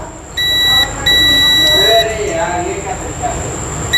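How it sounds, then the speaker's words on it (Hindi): A multimeter on continuity mode beeps as its probes touch points on a phone's display light IC, giving steady high-pitched tones in separate bursts. Someone talks over them in a workshop. "यहाँ पे बज रहा है, यहाँ पे बीप आ रहा है, यहाँ भी बज रहा है, यहाँ पे भी बीप आ रहा है, दोनों जगह बीप मिल रहा है।"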